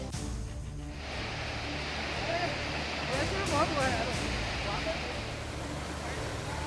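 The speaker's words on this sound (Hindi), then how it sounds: "नदी की लहरों का ये शोर दिलों में दहशत पैदा कर रहा है।" A swollen, flooded river roars with churning waves, a loud continuous rush of water. A voice speaks over it partway through.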